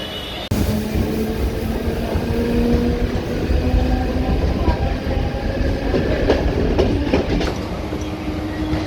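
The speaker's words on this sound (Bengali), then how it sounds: "এটা হচ্ছে মুম্বাইয়ের লোকাল ট্রেন এই ট্রেনে করে যাবো আজকে দাদর" A Mumbai local train runs steadily, its loud continuous rumble and rail clatter carrying from the inside after a sudden start, with faint squeals over the roar.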